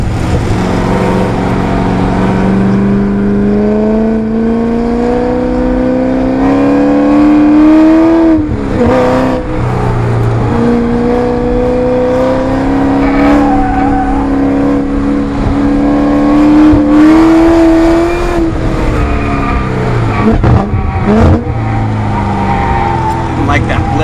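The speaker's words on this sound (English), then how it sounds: "Like that blip on the throttle when I was downshifting." A race car engine, fitted with a ProEFI engine management system, revs up and falls back repeatedly with quick throttle blips on downshifts, loud and continuous over a voice speaking throughout.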